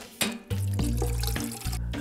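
Peeled onions dropped into a bowl of water, a splash and sloshing of water that continues in a steady, close wash of liquid sound for about two seconds.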